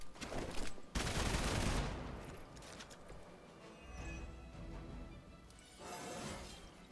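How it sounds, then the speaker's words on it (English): Explosion in the video game Marvel's Midnight Suns, a loud burst of crackling, debris-like noise in the first seconds followed by rumbling and a second smaller blast near the end, with no talk. "Let's get Blade out of the explosion anyway."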